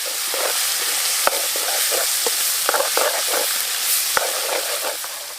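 Pounded tomato paste fries in a pan with a loud, continuous sizzle, broken by several sharp clicks and scrapes of stirring.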